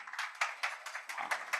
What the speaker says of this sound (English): May I please request everybody to welcome all of them with a warm round of applause